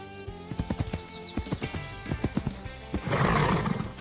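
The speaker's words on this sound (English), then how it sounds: "Wow! What a beautiful horse! That makes 6 animals! Neigh!" A horse neighs and whinnies in a long, shrill, wavering call with rhythmic hoof clip-clops beneath, closing in a loud breathy snort, heard clearly and close.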